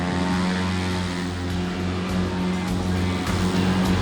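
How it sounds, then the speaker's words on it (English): A souped-up Cessna 170 light plane's engine roars steadily and loud as it powers up for takeoff, a continuous droning hum with a propeller buzz and no voices. "going to give it some power, and we're going to be airborne before you know it"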